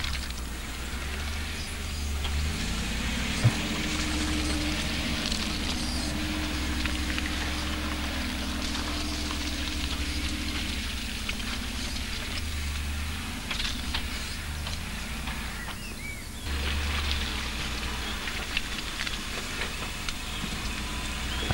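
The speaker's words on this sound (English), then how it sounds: "As the 90 is driven across these humps, it is only momentum and the vehicle's incredible axle articulation that keep the vehicle moving as wheels lift off the ground." A Land Rover 90 4x4 crawls over potholes and humps off-road, its engine a steady low drone under continuous rumbling and creaking from the chassis, with occasional knocks and one sharp thump at the end.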